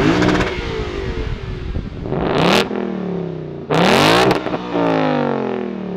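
V8 exhaust of a 2021 Ford Mustang Mach 1 or Lexus RCF Track Edition heard from outside, a loud idle broken by two sharp throttle blips that rise and fall quickly, then settle back to a rumbling idle.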